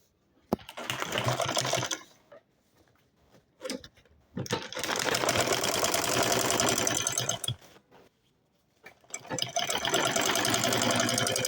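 A sewing machine top-stitches a lined handbag made from a single rectangle of fabric, running in three long steady bursts separated by short pauses, loud and close with no talking.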